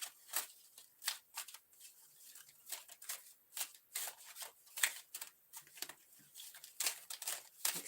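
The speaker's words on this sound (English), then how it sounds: "Makes it almost impossible to shuffle these cards." Romance angel tarot cards being shuffled by hand, a rapid run of crisp papery riffles and slaps in uneven bursts, close and fairly quiet with no talking.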